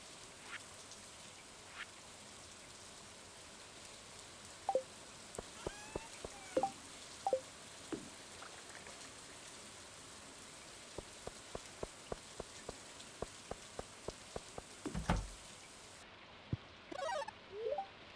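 Steady soft rain patters in the farming game Stardew Valley, a faint continuous hiss broken by scattered sharp ticking drops and a few brief louder splashes.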